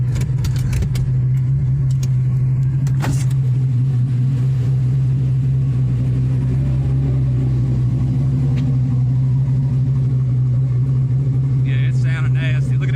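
A built, cammed 4.3L Vortec V6 in a Chevy S10 pickup idles loud and close with a steady, lumpy rumble for the whole stretch, with a few brief clicks and noises around it.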